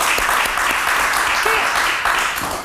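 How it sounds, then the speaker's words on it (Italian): Broadband applause from a crowd fills the whole stretch, steady and fairly loud, with faint voices mixed underneath. "un applauso anche a nipote"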